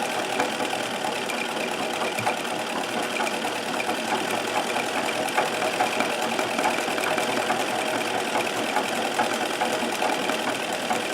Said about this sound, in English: the whole machine, the bobbin assembly, is moving back and forth, it's incredibly quiet and incredibly smooth